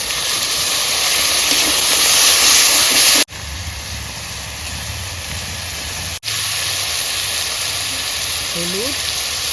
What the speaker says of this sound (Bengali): আদা রসুনের পেস্টগুলো দিয়ে দিচ্ছি। টমেটোগুলো দিয়ে দিচ্ছি।